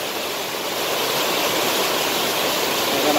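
Heavy water rushing over the spillway of the Mangueiras reservoir in Acopiara, Ceará, full and overflowing: a steady, loud, broadband roar of falling water, close and continuous, with no voices.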